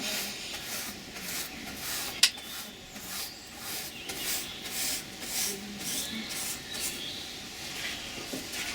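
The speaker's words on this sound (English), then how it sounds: "So hopefully just brushing the excess off the top." Soft brush sweeping loose ballast off the top of a model railway layout, a steady rhythmic rubbing with repeated short strokes and one brief sharp tick, close and fairly quiet.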